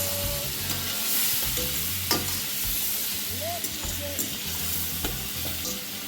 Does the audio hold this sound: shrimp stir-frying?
yes